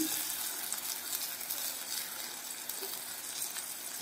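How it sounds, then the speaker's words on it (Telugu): Steady, close sizzling as tomato pieces go into frying onions for a gongura meal maker curry, an even crackle holding throughout with no talk. "ఉల్లిపాయలు అలా కాస్త ఫ్రై అయిన తర్వాత ఇప్పుడు టమాటా ముక్కల్ని కూడా యాడ్ చేయాలి."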